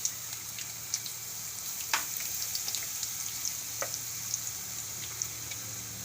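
Garlic frying in oil over a low flame along with cumin seeds and asafoetida, after mustard seeds have popped; a soft, steady sizzle with faint scattered crackles and pops, quiet and continuous.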